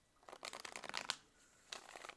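Tarot cards shuffled by hand in quick riffling bursts, a dense run of crisp flicks followed by a pause and a shorter second burst, fairly close and quiet.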